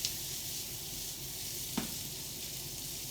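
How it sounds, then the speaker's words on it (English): Beyond Meat plant-based burger patty browning in a pan, giving a steady close sizzle and hiss throughout with a faint scrape partway through. "Beyond Meat's browning up"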